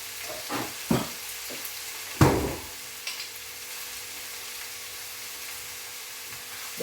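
Curry leaves dropped into hot oil in a frying pan, giving a sharp burst of sizzling and crackling, with a few softer spits and stirring sounds around it on a quiet kitchen background.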